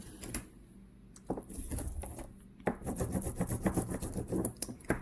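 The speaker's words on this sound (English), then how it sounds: "This is just a piece of t-shirt I'm using just to clean, because it's not really abrasive" A scrap of soft t-shirt cloth rubs across a gelli printing plate, producing dry, uneven scrubbing strokes in quick bursts, faint at first and then busier and more continuous.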